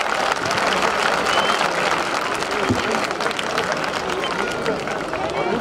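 Dense, sustained applause from a large audience at a public gathering in Balochistan, a loud, steady wash of many hands clapping with crowd noise mixed in.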